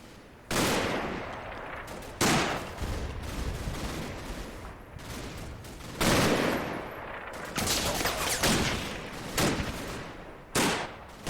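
Gunfire in the Combat Mission WWII tactical video game, repeated loud bursts of rifle and machine-gun fire with rolling echoes, some near and some more distant, spread irregularly throughout.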